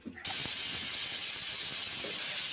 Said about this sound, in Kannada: ಕುಕ್ಕರ್ ಲಿಡ್ ಕ್ಲೋಸ್ ಮಾಡಿ ಹಾಗೆ 1 ವಿಸಲ್ ಕೂಗಿಸಿಕೊಳ್ಳಿ.